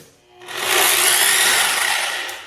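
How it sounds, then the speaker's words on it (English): Gyfent 880W 7.3-amp electric drywall sander, a popcorn ceiling removal tool, spinning up from quiet to a loud, steady broadband whir that holds throughout with no talk. "This is a drywall sander."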